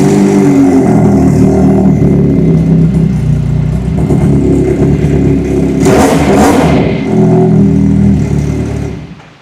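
A heavy EFI cruiser motorcycle engine runs loud and close, with a steady rumbling idle and a brief rev swell in the middle before settling back down.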